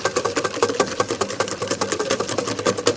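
Egg yolks whisked briskly in a bowl for crème brûlée, a quick even run of close rhythmic clicking and scraping strokes throughout, with no talk.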